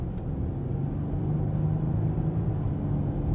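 A 2021 Ford Explorer Limited Hybrid moving along a street gives a steady low road rumble and engine hum from inside the cabin, even and continuous throughout with no voices.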